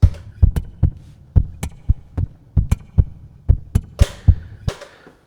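Looped snare-style taps played on an acoustic guitar body, crisp percussive hits in a repeating groove over deeper thumping beats, close and loud, with no voices.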